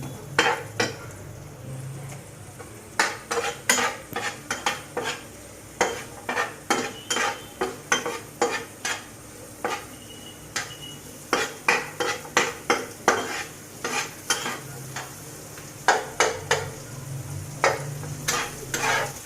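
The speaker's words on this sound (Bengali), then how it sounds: "এভাবে আমি 2 মিনিটের মতো পেঁয়াজটা একটু ভেজে নেব" Chopped onions fry gently in a pan for a white sauce chicken pasta, with a spatula clinking and scraping against the pan in quick, irregular strokes over a soft sizzle.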